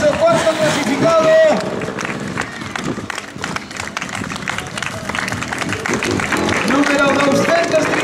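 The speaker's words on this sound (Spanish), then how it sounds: "vamos a recibir también con ese fortísimo aplauso, cuarto clasificado" A crowd at a popular running race claps for the fourth-placed runner, scattered applause under a loud announcer's voice over a public address system, with crowd murmur in the background.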